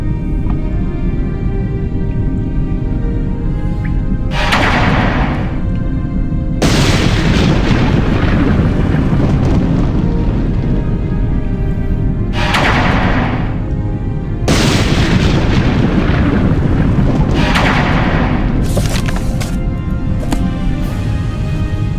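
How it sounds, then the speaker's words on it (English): A Blight Storm and an erupting mountain in the video game Morrowind make a dense, continuous booming roar, swelling in several heavy bursts with a constant low rumble between them. "There's the Blight Storm."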